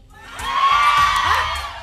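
A studio audience at a live TV variety show erupts in a loud burst of shouting and cheering, shrill voices rising and swelling together, then slowly tapering off.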